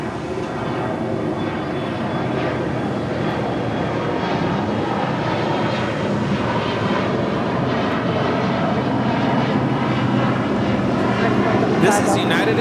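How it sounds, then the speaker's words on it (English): A United Express Embraer E175 regional jet departing Los Angeles International Airport, its engine roar steady and broad across the whole stretch, heard from nearby with a voice talking over it. "This is United Express 4643 departing to San Diego on an E175."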